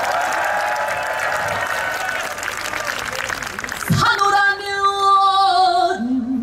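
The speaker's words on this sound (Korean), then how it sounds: "다시 한번 큰 박수 부탁드립니다." Festival crowd applauding at an outdoor city-anniversary concert in Suncheon, a dense wash of clapping for about four seconds before music and a singing voice take over.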